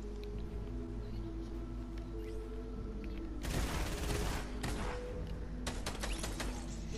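Gunfire in the Fortnite video game comes as a burst of rapid shots, then a cluster of sharp cracks, set against a steady low background hum.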